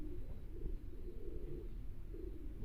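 Freshly moulted racing pigeons coo low and steadily in a loft, a continuous soft warbling murmur throughout.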